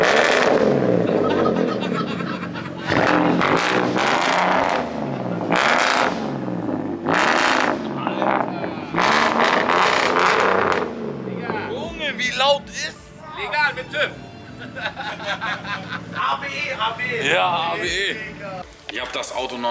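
An engine revs hard in repeated loud bursts, probably the Volkswagen T5 bus at a workshop, surging and dropping in a rough rhythm at close range while several people talk and shout around it.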